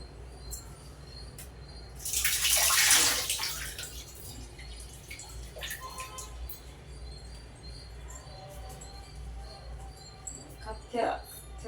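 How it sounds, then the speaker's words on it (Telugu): Fresh coriander leaves are rinsed in water in a home kitchen, giving a loud splashing, rushing burst early on, then softer drips and handling noises, with a brief splash near the end. "కొంచెం కొత్తిమీర శుభ్రంగా గడిగేసి వేద్దాము."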